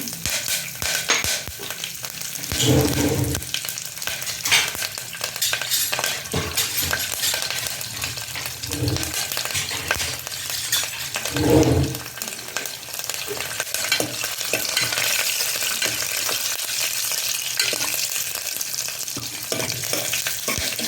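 Whole spices fry in hot oil for tempering a sorrel and lentil dish, a continuous loud sizzle and crackle with occasional stirring scrapes and soft clunks of a utensil against the pan.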